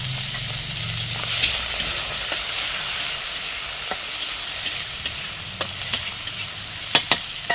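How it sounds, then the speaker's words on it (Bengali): Prawns, about a hundred grams, cleaned and cut, fry in hot oil with a steady bright sizzle and occasional sharp crackles and pops, close and fairly loud with no voices. "এখানে না একশো গ্রাম চিংড়ি মাছ নিয়েছি এটাকে কেটে পরিষ্কার করে ধুয়ে নিয়েছি এটাকে ভেজে নেব এবার"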